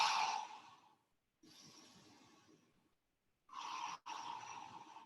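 Deep breaths during an exercise routine, three long breathy exhales separated by short pauses, close and soft with no talking.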